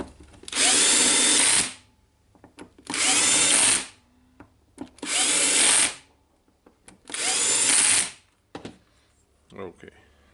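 Power drill whirring in four long bursts, each a couple of seconds, with short pauses and small clicks between, while driving screws into a Makita 18V BGA452/DGA452 angle grinder during an armature replacement.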